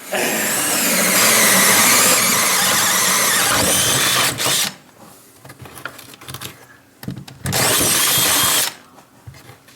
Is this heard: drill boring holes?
yes